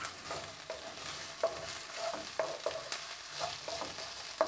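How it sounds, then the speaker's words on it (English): Onions and aromatics fry and are stirred in a pan for crispy chilli beef, a soft steady sizzle broken by repeated light scrapes and knocks of the utensil, fairly quiet and without any talk. "we're just kind of frying this off, making sure that we are starting to get the flavours out of all these aromatics"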